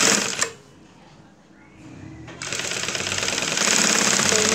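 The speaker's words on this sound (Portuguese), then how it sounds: "Vou costurar aqui, ó." Sewing machine stitching up close on a double-needle cover stitch machine, a brief burst, a quiet pause, then a steady loud rapid run of stitching to the end.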